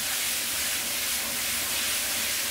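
Beef and bitter melon stir-fried over high heat with a splash of rice wine give a loud, close, continuous hissing sizzle that holds steady throughout with no talking.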